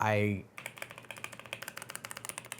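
Fast typing on a NuPhy Air 96 V2 low-profile keyboard, a rapid, close run of light, crisp keystrokes in a steady rhythm, just after a short spoken voice ends.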